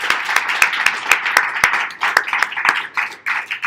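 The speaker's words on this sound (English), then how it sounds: "I think we should give Vittorio a round of applause" A small audience claps for a speaker at a talk on voice UX, with sharp individual hand claps punctuating a lively but modest round of applause that ripples unevenly and keeps going.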